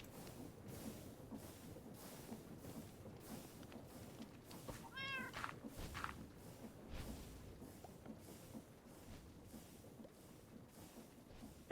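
A Minecraft cat gives a short series of meows in the middle, heard over a steady background hum and faint game ambience.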